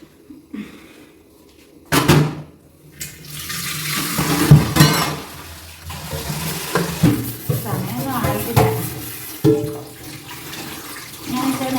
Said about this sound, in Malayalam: കഴുകാനുള്ള പാത്രങ്ങൾ മൊത്തം കഴുകി വെക്കാമെന്ന് ഞാൻ വിചാരിച്ചു